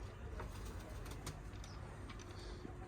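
Faint pigeons coo softly in the background amid steady outdoor noise, with no talking.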